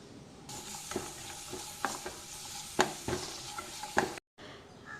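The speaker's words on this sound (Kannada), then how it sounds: "ಈಗ ಹೆಚ್ಚಿಟ್ಕೊಂಡಿರೋ ಈರುಳ್ಳಿ ಹಾಕ್ತೀನಿ. ಅದ್ರ ಜೊತೆಗೇ ದೊಣ್ಣಮೆಣಸು ಸಹ ಹಾಕ್ತೀನಿ. ಎರಡೂ ಸ್ವಲ್ಪ ಚೆನ್ನಾಗಿ ಬಾಡಿಸ್ಬೇಕು" Chopped onion and capsicum sautéing in oil in a pan: a steady close sizzle with regular scraping and stirring strokes of a spatula, ending in a brief sudden cutoff.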